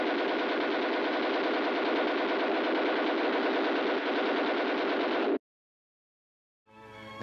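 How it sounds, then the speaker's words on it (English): An M12 Kobalt heavy machine gun in the game Planetside 2 fires one sustained, loud, continuous burst for about five seconds, then stops abruptly; a short mechanical rattle follows after a moment of silence. "machine gun is a lightweight, air-cooled weapon. It is recoil-operated with a gas assist and is completely automatic."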